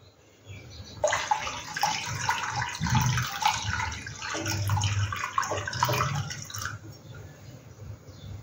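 Water poured steadily into a steamer pot for an egg caramel pudding, a close continuous splashing gush lasting several seconds before stopping.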